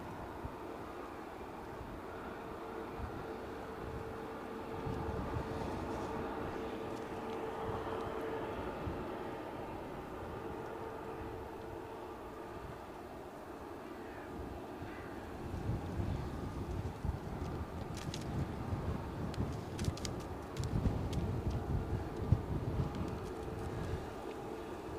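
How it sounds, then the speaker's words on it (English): A British Airways plane arriving at Edinburgh Airport, a distant low jet rumble that swells in the second half, with gusty wind buffeting the microphone. "let's just track in with the British Airways arrival"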